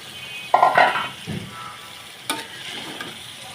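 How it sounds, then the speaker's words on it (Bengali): Rohu fish roe tipped into spice masala frying in a pan, a brief burst of sizzling and stirring that fades, then a single clatter of a utensil against the pan and low frying noise. "মশলা কষানো হয়ে গেছে, এখন আমি ডিমগুলো দিয়ে দিচ্ছি।"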